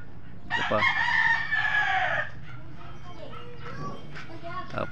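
A rooster, a bull stag offered for sale, gives one loud, clear crow lasting about two seconds, followed by quieter clucks and farmyard chatter in the background.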